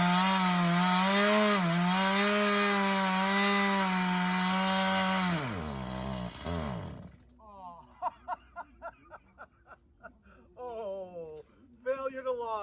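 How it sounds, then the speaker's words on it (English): A Stihl chainsaw runs loudly for several seconds cutting wood, then winds down and cuts out, followed by someone talking. "Okay, we got one more piece we're going to chainsaw."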